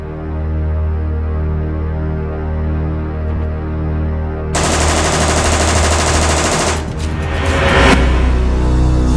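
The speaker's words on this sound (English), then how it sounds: "if you'd like me to shoot it on full auto very quickly, I will do that" A fully automatic M4 rifle fires a long, rapid, loud burst at SWAT sniper training in Sacramento, following a steady machine hum, with brief pauses and another short burst.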